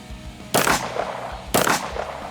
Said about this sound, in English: I'm gonna take 2 shots at the Premier Body Armor level 3 backpack plate.